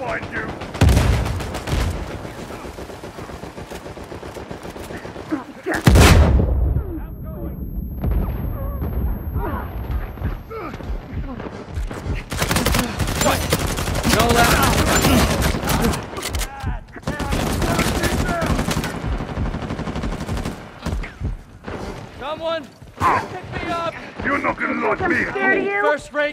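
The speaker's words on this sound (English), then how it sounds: "Laying down suppressive fire!" Bursts of gunfire and fusillades in Uncharted multiplayer, loud and repeated across the scene amid game effects, with voices talking over the action.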